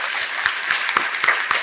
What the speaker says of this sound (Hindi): नहीं दिख रहा तो तालियां बजा दें